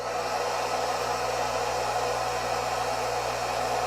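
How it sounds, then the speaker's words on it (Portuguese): A hair dryer runs at a steady, loud, unbroken whoosh, powering a circuit set to 220 volts, with no voices over it. "E vamos ligar o secador para então gerar corrente no circuito."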